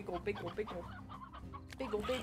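Briar hens in the video game Slime Rancher cluck in a busy run of short, repeated calls mixed with other game sounds and a voice talking.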